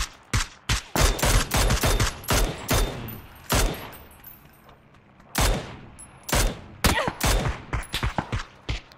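Rapid bursts of SLR rifle fire in PUBG ring out loud and close, with sharp shots spaced irregularly and a quieter gap midway before the firing resumes.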